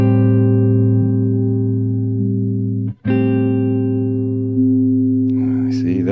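Electric guitar notes sustaining through an EQ pedal on a BOSS GT-10 modeller while the frequency is swept, giving a steady, loud held tone with one brief cut near the middle and a shifting, brighter coloration toward the end.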